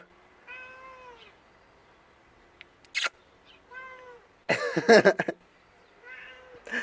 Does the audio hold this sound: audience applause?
no